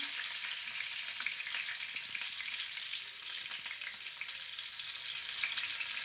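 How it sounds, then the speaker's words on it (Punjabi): Garlic frying in a pan with curry leaves for a dahi tadka gives a steady, dense sizzle that holds even and close for the whole stretch, with no talking. "ਲਸਣ ਨੂੰ ਆਪਾਂ ਥੋੜਾ ਜਿਹਾ ਬ੍ਰਾਊਨ ਕਰ ਲੈਣੇ"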